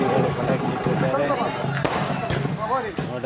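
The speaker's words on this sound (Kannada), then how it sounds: "ಭಕ್ತಾದಿಗಳು ಪಟಾಕಿ ಇಟ್ಟಿದ್ದಾರೆ" Firecrackers set off by devotees at the Shanaishwara Swamy temple chariot festival in Khandenahalli give two sharp cracks, one after another, amid a crowd and someone talking over them.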